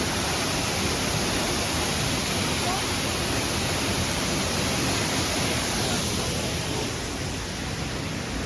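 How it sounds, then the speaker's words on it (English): A constant, loud roar of rushing water from a waterfall fills the whole stretch, dense and unbroken. "Oh, there's the waterfall."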